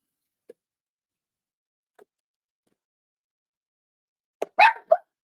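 Dogs bark in the distance indoors: two faint isolated yips, then a short louder cluster of three barks near the end, otherwise near silence.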